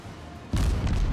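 The Fubuki destroyer fires a salvo of shells in World of Warships. Near silence gives way to a sudden, loud, deep boom that rolls on as a heavy rumbling blast for the rest of the moment.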